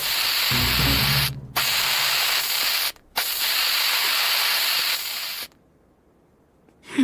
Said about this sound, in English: Next, he's got Chris grabbing spray paint cans and vandalizing walls.